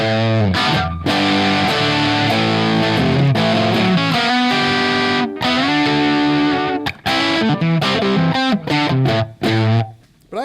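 Distorted electric guitar plays chords and riffs with a light reverb tail, loud and up close, pausing briefly between phrases.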